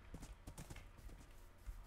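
Horse hooves clip-clopping at a trot in the Minecraft video game, a steady run of near, moderately loud hoof thuds with no voices over them.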